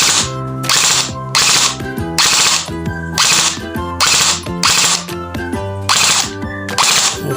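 Rapid bursts of rifle fire with a Spitfire Tracer muzzle device, eight or so sharp evenly spaced cracks at a steady clip, loud and close with ringing tails between shots and no talking.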